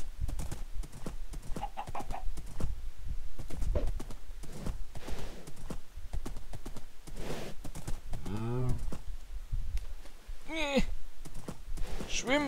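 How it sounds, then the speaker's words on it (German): Horse hooves clip-clop steadily as a rider travels in Minecraft survival, the even game footfalls running under a man's casual German chatter. "ich reite nochmal los"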